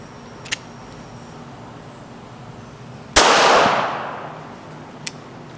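A handgun fires Hornady Critical Defense ammunition from a short distance, one loud sharp report with a decaying echo, set between two fainter clicks.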